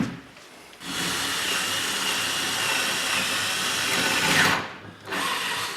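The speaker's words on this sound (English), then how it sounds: "Here I've got a 2 1/8 inch hole saw that I'm going to drill the hole through the door with." A 2 1/8 inch hole saw on a power drill cuts steadily through a door for a lock install, a loud continuous grinding whine lasting about four seconds before it stops and briefly restarts.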